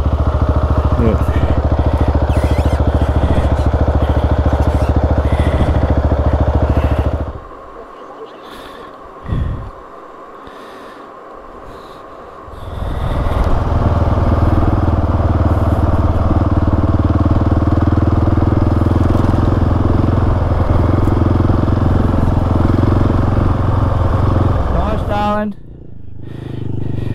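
Husqvarna 701 and Yamaha XT 250 motorcycles ride on sand dunes, engines droning loudly and close, dipping briefly before surging again, with people talking over the noise.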